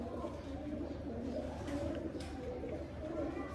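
Racing pigeons cooing softly on a rooftop loft, low repeated coos against a busy outdoor background with faint distant noise.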